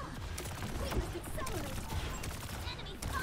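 Rapid gunfire from a hero's weapon in Overwatch 2, a dense steady stream of shots running through a competitive match mix of game effects and player voice chat.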